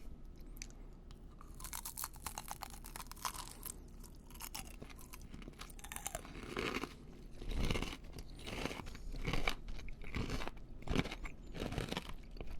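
Crunchy crystal rose candy is bitten and chewed up close, with repeated crisp cracking crunches and grinding chews, quiet overall and without talk.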